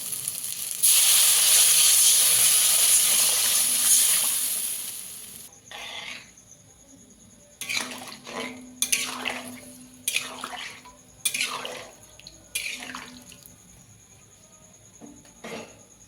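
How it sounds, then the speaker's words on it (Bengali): Water poured onto hot cooked spice masala in a pan meets a loud, broad hiss that dies away after about four seconds. Clinks and scrapes of a spoon against the pan follow in irregular bursts. "মশলাটা কষানো হয়ে গেছে এবার পরিমাণ মতো জল দিয়ে দেবো"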